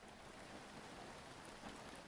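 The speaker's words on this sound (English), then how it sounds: "So you should hear both music and rain right now." Rain sound effect playing during a game stream, a steady soft hiss of rainfall running continuously at low volume with no talk.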